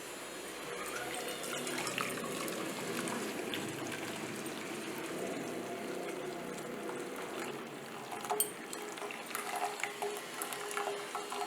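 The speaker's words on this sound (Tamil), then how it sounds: "வெல்லம் கரைஞ்சிடுத்து. இப்போ இதை வடிகட்டிடலாம்." Melted jaggery syrup poured through a strainer for a temple sweet, a steady, soft trickling and splashing of liquid with occasional faint clinks of a utensil.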